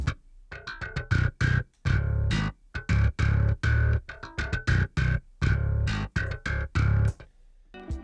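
A programmed bass riff from the Omnibass VST plays alone, a string of punchy plucked notes in a driving uneven rhythm with short gaps, mixing sustained tones with quick slaps and harmonic pops, loud and close with no voice.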